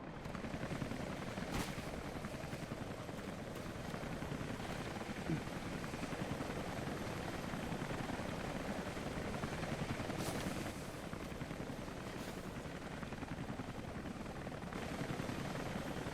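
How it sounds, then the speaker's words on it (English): Helicopter in Rise of the Tomb Raider giving off a continuous rotor chop and engine rumble that holds steady, fairly quiet and unbroken, with no talking. "Got the little chopper!"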